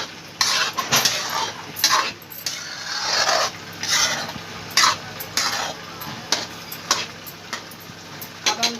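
Fried paneer being stirred into palak in a pan, a spoon scraping and clinking against the metal in repeated short strokes over a faint sizzle, close and rhythmic.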